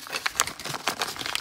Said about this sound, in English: I'm gonna go ahead and cut this package open